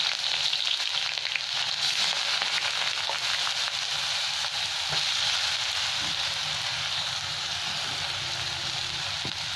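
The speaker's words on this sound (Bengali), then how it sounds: "এটা পেঁয়াজটা ভালো করে লাল লাল করে ভেজে নেবো।" Two large chopped onions fry in spiced oil in a pan, a continuous dense sizzle and crackle with faint occasional stirring taps, steady and close with no voices.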